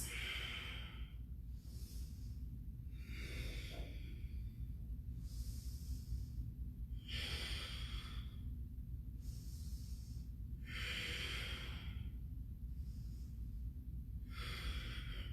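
Slow, audible breathing while holding a yoga wheel pose, with about five long hissing inhale-exhale cycles over steady background noise and no talking.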